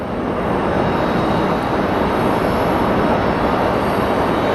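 A SkyWest Embraer regional jet pushes back at Phoenix Sky Harbor under a loud, unbroken engine roar and rumble that holds steady throughout.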